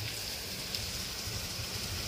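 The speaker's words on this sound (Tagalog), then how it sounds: "Palakas na pong ulan ano." Heavy rain pours down in a dense, even hiss with a low patter on surfaces, continuous and fairly soft, no voices.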